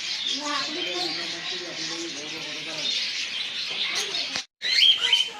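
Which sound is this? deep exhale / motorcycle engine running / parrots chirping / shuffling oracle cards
parrots chirping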